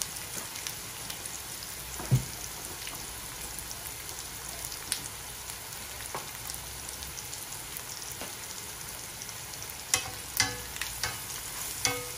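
Onions fry in a pan for a chicken mushroom korma while being stirred and mixed, producing a soft, steady sizzle with a handful of sharper spatula scrapes and clicks, quiet and close, no talking.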